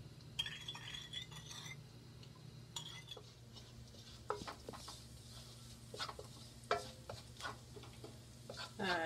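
Sauce for shrimp with broccoli is mixed in a bowl, with repeated light clinks and scrapes of a utensil against the dish over a steady low hum and faint kitchen sizzle.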